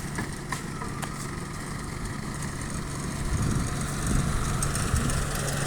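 A vehicle engine idles steadily at a low, even hum during reverse-gear driving practice, growing slightly louder toward the end, with no talking.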